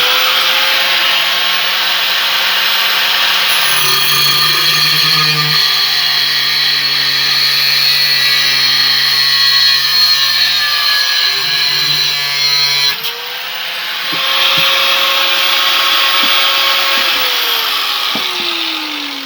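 A power tool cuts through an M3a2 steel saw blade, a loud continuous whining grind with shifting pitch that dips briefly partway through and then resumes.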